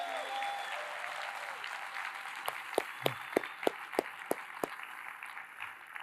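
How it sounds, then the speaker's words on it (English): An audience applauds for a family on stage at a motivational talk, a steady wash of clapping with several sharper individual claps standing out near the middle, fairly distant and moderately loud. "Clap it up for my beautiful wife and son here."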